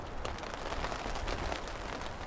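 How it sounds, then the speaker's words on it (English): Steady rain falls on a tent during a New Zealand camping trip, a dense even hiss of drops that holds throughout without any voices. "Camping in the rain."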